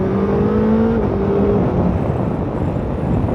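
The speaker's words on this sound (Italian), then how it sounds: "è un gran motore, un gran motore, bel motore, molto rapida questa moto." A Suzuki GSX-S1000GX motorcycle engine runs as a loud, close, continuous drone. Its pitch steps down slightly after the first second, then holds steady as the revs stay up.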